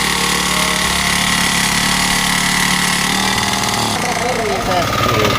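An F8 mini tiller engine runs steadily up close in a farm field, a loud continuous mechanical drone with a shift in tone near the end, while someone talks over it.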